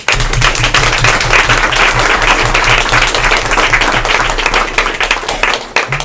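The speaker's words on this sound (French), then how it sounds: "Je souhaite beaucoup remercier nos intervenants pour les applaudir." An audience applauds the speakers at the close of a round-table discussion, a loud, continuous roll of clapping with a low rhythmic musical pulse underneath, tapering near the end.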